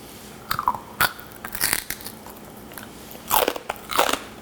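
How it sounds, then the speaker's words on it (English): Crunchy crispy pork belly is bitten and chewed up close, with sharp crackling crunches in short bursts separated by quiet pauses. "That crunchiness is really awesome."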